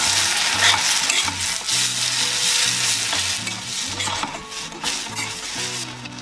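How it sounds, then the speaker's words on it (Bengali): Pointed gourd frying in hot oil with turmeric, salt and ginger-green chilli paste, a steady loud sizzle with bursts of stirring and spatula scraping against the pan, no voices. "এবার এর মধ্যে দিয়ে দিলাম একটু হলুদ ভাজা হতে, নুন, অল্প একটু আদা কাঁচা লঙ্কা বাটা,"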